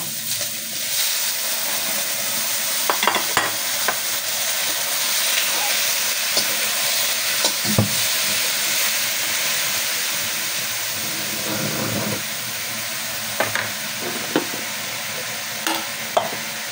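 Beef frying in hot oil in a pan for beef afritada, a loud, steady sizzle that runs throughout, with occasional sharper scrapes and clatters from stirring.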